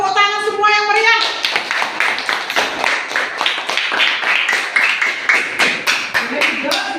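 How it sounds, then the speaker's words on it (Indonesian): A class of children clapping together in a room, a dense run of quick, loud handclaps following a brief sung or spoken voice at the start, the rhythm loosening toward the end. "Tepuk tangan semua yang meriah"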